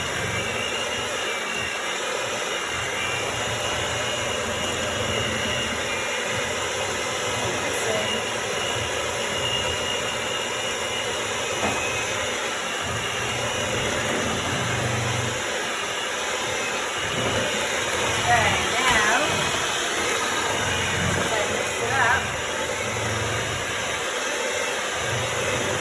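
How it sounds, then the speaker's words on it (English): An electric mixer whirs steadily through banana bread batter, a constant loud drone lasting throughout with small shifts in pitch, while voices talk over it. "You don't put your hands near the mixer."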